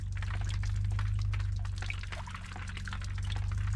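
Rainwater pouring off the roof edge at a desert homestead in northern Arizona, a loud, constant close splashing rush with a low steady rumble underneath, unbroken throughout.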